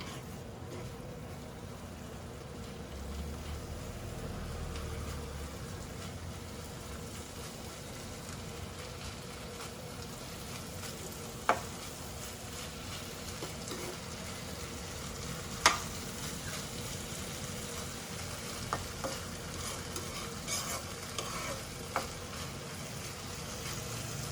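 Vegetable biryani being stirred and fried in a pan over a high flame, a steady soft sizzle running throughout with occasional sharp clicks and scrapes of the spoon, no voices.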